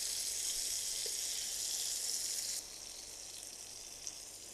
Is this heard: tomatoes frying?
yes